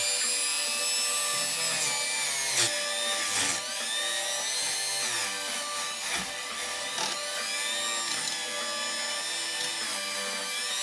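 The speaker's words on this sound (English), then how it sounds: "whenever you're working with a Dremel like this, just be aware that you've got this shaft right here" Dremel rotary tool fitted with a brush, cleaning a Singer sewing machine: a steady high whine that sweeps up and down in pitch as the load changes, close and continuous, with no voice.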